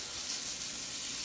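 Minced garlic sizzles steadily in a hot pan, a continuous close frying hiss throughout with no talking.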